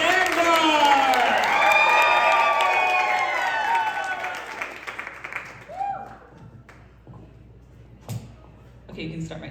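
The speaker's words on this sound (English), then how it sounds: "Everybody start clapping slow. And now clap a little faster." A comedy club audience claps and cheers, opening with loud whoops and voices over the applause, then thinning out into scattered individual claps and taps as the crowd settles.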